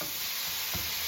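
Food frying in a pan for stuffed peppers, a dense continuous sizzle close by with a faint stir near the end.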